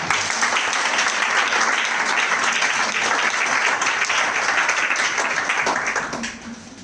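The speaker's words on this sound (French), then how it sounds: "Est-ce qu'on peut encore acclamer le Seigneur?" A church congregation at a thanksgiving service for 2024 applauds to acclaim the Lord: dense, loud, continuous clapping from many hands that fades away in the last moment.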